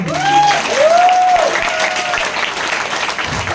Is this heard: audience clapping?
yes